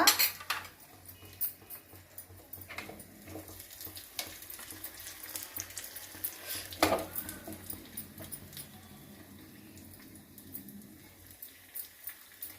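Cashews and raisins fry in a pan for sago pudding, a soft steady sizzle punctuated by scattered clinks and scrapes of a spoon against the pan, close and fairly quiet.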